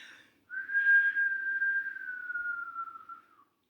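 A person whistles one long, steady note held for about three seconds that slides slightly lower toward the end, clear and close in a quiet room.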